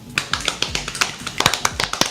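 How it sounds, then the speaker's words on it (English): Show hosts clap their hands rapidly in a quick, uneven run of sharp, close claps with no talk over them. "we can do our claps"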